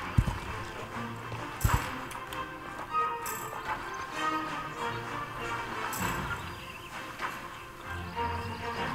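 Horse hooves clip-clop in a video game, a slow horse moving steadily under a dense bed of game sound and ambience.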